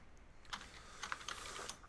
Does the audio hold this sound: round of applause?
no